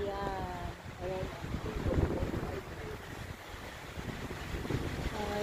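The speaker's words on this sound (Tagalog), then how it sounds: "ang lamig na nga dito. Super hangin pa" Strong wind buffets the microphone on a winter hike up South Lawson Peak in Kananaskis, Alberta, a loud gusting roar with voices speaking faintly beneath it.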